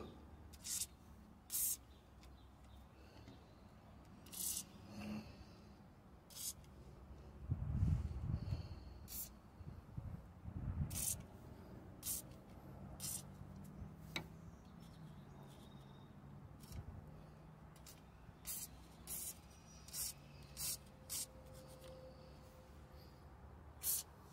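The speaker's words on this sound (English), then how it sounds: "Let me spray some more oil on this bad boy." An aerosol can sprays oil onto a Freightliner truck driveline part around the center carrier bearing and U-joint, in many short, sharp hissing bursts spread across a quiet garage background with a low rumble in the middle.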